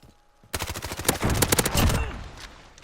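Rapid burst of hip-fired gunfire in Call of Duty: Modern Warfare, a loud rattling volley of closely spaced shots lasting over a second before trailing off into a faint echo.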